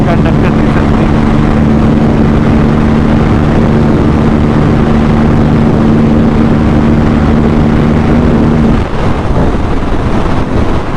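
Aprilia RS457 motorcycle riding at speed, a loud, steady roar of wind and engine droning close to the rider, shifting tone briefly near the end, with a voice talking over it.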